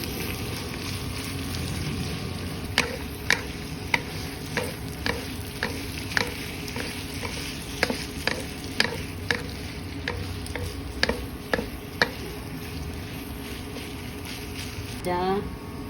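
Lean ground beef fries in a pot for picadillo soup, a steady sizzle with repeated sharp scraping knocks of stirring, close up.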